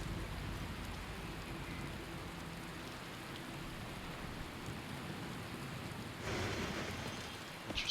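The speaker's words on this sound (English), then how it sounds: "It's hard to see in the rain here." Steady rain falls in the video game Skyrim, a dense continuous hiss with faint low rumbles beneath, swelling a little louder near the end, with no voices.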